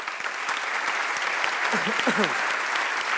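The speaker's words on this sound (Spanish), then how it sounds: "les pido un aplauso muy fuerte para las tres" Audience applause at a Spanish book presentation for a memoir, a steady dense wash of many hands clapping throughout, with a brief voice rising faintly underneath.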